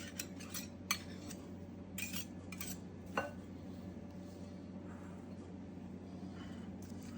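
A spoon clinks against a bowl while Splenda is stirred into pumpkin mixture for crustless pumpkin pie cupcakes, giving a few sharp taps over a steady low hum, fairly quiet and with no voice.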